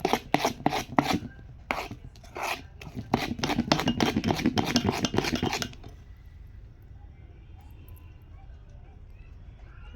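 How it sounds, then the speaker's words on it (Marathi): Idli batter whisked after soda is added, rapid rhythmic beating strokes against the bowl for about six seconds, close and loud, then stopping into near silence. "सोडा टाकल्यानंतर एकाच दिशेने फेटत जायचं"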